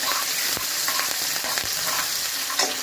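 Chopped green chillies fry in a hot pan for sabudana khichdi, with a dense, steady sizzle broken by a few sharp scrapes and clicks of stirring, close and loud, with no talk.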